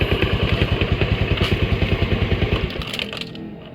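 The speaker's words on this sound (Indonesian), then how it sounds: "jadi kontak on ini bisa langsung starter dan hidup mesinnya." A motorcycle fitted with an Android-controlled alarm in manual mode runs close up, its engine thumping in a fast, even pulse for nearly three seconds before the rhythm fades into a looser, quieter rattle.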